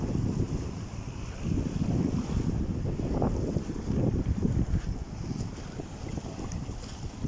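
Sea waves wash against the shore with steady wind buffeting the microphone at the seaside, a continuous low rumbling surf with no voices.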